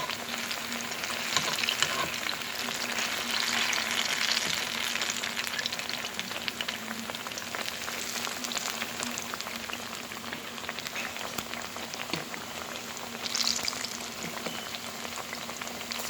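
Plantain fries in a pan with a constant dense crackling sizzle like rain, steady throughout with a brief louder burst near the end.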